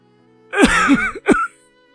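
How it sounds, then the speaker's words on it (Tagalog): An old man coughs loudly in two harsh, throaty bursts, a longer rasping one followed by a shorter sharp one, close and alone against a quiet background. "biglang umubo ng malakas ang matanda"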